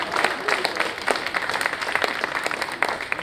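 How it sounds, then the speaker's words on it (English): Loud, dense audience applause for a performer at a live gig, many hands clapping close together in a steady roar with occasional sharper claps rising above it. "Let's give her another round of applause."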